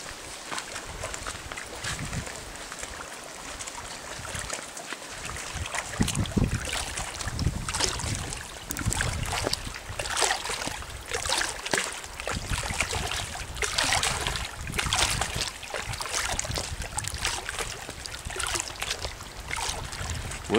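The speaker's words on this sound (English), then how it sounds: "look at the wind on that lake too" Wind blows over a wilderness lake in the Boundary Waters during a June canoe trip, a continuous gusty roar with rushing surges and steady buffeting against the microphone, no voices.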